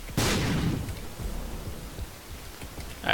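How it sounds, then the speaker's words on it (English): Bomb explosions in the video game The Binding of Isaac: Afterbirth make a sharp blast that swells into a dense, rumbling, crackling roar, with another burst starting at the end. "Those explosions, beautiful."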